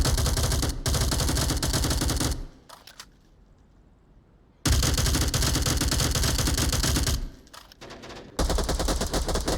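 Dense automatic gunfire in a competitive video game match, loud and close, comes in long sustained bursts broken by two short quiet gaps, with rapid rattling shots throughout.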